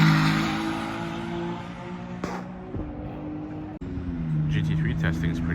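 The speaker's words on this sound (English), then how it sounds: "Ooh, that's a challenge race car." A Ferrari 296 Challenge race car drives at the Fiorano track, its engine droning and shifting at a moderate distance while someone talks over it.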